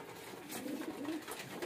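Pigeons of Kalsire, Bajre, Chhapdar and Ude types, kept in a loft for sale, give soft, low repeated coos over a quiet background hush.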